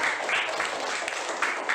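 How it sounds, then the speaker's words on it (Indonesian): A classroom gives a short burst of applause for the children, a dense patter of many hands at moderate loudness with voices mixed in. "beri tepuk tangan buat anak-anak hebat"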